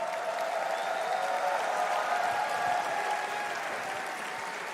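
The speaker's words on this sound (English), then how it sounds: "One last round of applause for OG, making the best of an unfortunate situation," Steady, dense applause from a large crowd at the ESL One Berlin Major 2023 Dota 2 esports event, a sustained even clatter of many hands with no gaps, holding level for several seconds before easing slightly.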